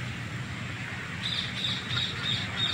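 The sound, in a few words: bird calling at the arena garden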